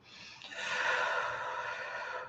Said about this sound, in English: Get that centered breathing.